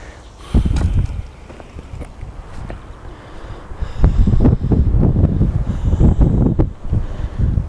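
Wind gusting outdoors across a garden allotment in April, loud buffeting rumble against the microphone that rises and falls in strong gusts, with no talking.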